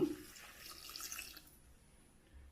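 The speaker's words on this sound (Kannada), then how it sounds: "ಒಂದು ಲೋಟದಷ್ಟು ನೀರು ಹಾಕ್ತೀನಿ ನಾನು" A short, soft splash of a glass of water poured into a pot of ridge gourd sambar with turmeric and salt, fading out after about a second and a half.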